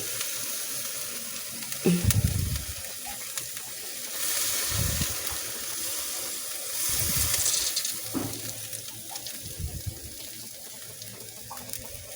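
Corned beef sizzles in a pan after soy sauce is added, a steady frying hiss with bursts of louder sputtering and stirring scrapes, close and alone without talk.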